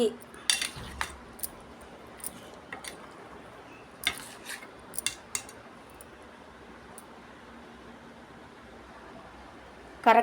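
Spoon clinking against a dish while mixing drumstick pickle with tamarind, a scattering of sharp taps and scrapes at moderate distance, with quiet gaps between and a louder clatter at the end.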